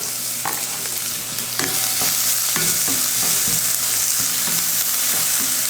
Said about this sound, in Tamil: சோம்பு பொரிஞ்சதும் ஒரு பெரிய வெங்காயத்தை பொடியாக கட் பண்ணியிருக்கேன் சேர்த்துக்கிறேன்.